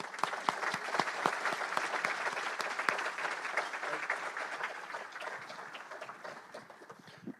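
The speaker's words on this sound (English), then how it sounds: "Let's give them a big applause." A Rotary club meeting audience applauds visiting guests, a dense, steady patter of many hands clapping at moderate volume that slowly fades toward the end, with no talking over it.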